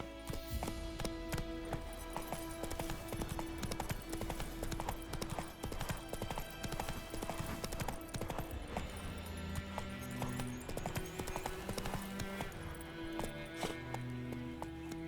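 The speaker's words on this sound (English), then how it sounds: "Whoa there, Roach." Horse hooves in The Witcher 3 video game clip-clop in a steady, continuous rhythm throughout, mixed with game sound and a low musical drone.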